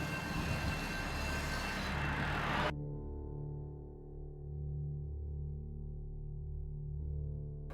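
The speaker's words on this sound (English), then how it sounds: "we might even get to see a train drive past" A train rumbles past nearby, a loud broadband roar lasting under three seconds before cutting abruptly to a quiet, steady low hum with no voices.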